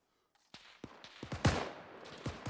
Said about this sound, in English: I just decided to freaking gun us down with an MG42